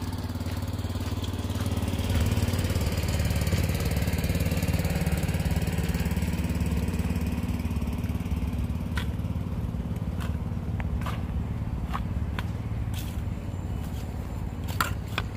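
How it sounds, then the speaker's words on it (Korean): A water truck's engine runs at a steady low idle-like rumble while newly planted trees are watered, a constant close drone with sharp intermittent clanks and knocks toward the end, no talking. "지금 물차로 나무에 물을 주고 있습니다"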